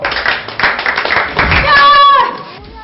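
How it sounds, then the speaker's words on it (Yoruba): Clapping from a small group in a scene of a Yoruba movie, a burst of uneven handclaps with voices talking over and around it. "Do ẹ fún ní àtẹ́wọ́."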